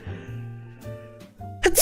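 A violent sneeze thumps straight into a microphone, one sharp burst at the very end that follows a few seconds of quiet tonal background hum.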